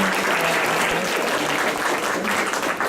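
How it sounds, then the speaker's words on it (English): An audience at an architecture school guest lecture claps after the talk, a full, steady round of applause from many hands, close and sustained throughout. "So I need you to have a big applause."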